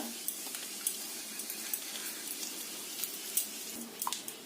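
Cumin seeds, dried red chili and bay leaf tempering in hot oil, a steady faint sizzle and crackle with scattered small pops, heard up close with no talking.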